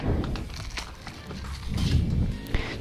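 Potting soil scooped into a plastic cup with drainage holes to raise chili seedlings gives a soft, gritty rustling broken by a few close crunching taps.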